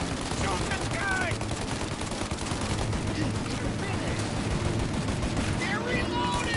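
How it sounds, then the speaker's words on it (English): Sustained gunfire from a shootout in Mafia Definitive Edition, dense bursts of shots and automatic fire filling the scene continuously, with voices shouting over the battle. "Shoot out your gun when there's a break in the fire!"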